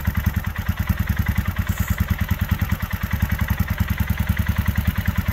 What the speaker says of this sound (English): this is the 2021 Royal Enfield Himalayan